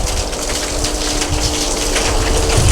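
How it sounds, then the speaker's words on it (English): Heavy rain pours down steadily outdoors at a semi truck repair site, a dense, continuous hiss and wash of water with a low rumble underneath, loud and unbroken throughout. "it's pouring down rain"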